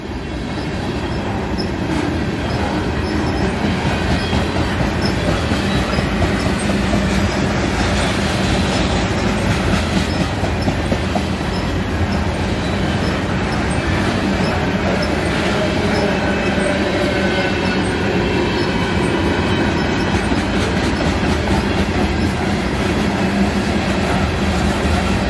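Two CN SD60 diesel locomotives lead a westbound local freight train in Battle Creek, Michigan, a loud, steady rumble of engines and rolling cars with rhythmic clickety-clack throughout, close by and without talk.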